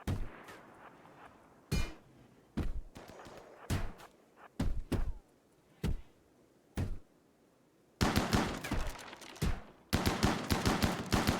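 Friendly fire breaks out in RimWorld: sharp, loud gunshots ring out singly and in short bursts with quiet gaps between, then turn into denser volleys of rapid fire near the end.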